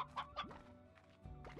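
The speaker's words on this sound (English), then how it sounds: "What kind of chicken are you? A briar hen." A briar hen from the video game Slime Rancher clucks in a few short, quiet bursts, with soft game ambience between the calls and no talking.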